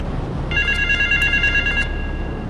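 A telephone rings in Grand Theft Auto III, a single electronic trilling ring of about a second and a half, fairly loud over a steady low background hum, with no talking.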